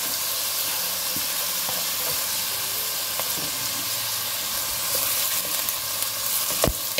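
Small chopped zucchini pieces fry in hot oil in a pan, giving a steady, close sizzle that runs throughout, with a few light stirring knocks near the end and no talking.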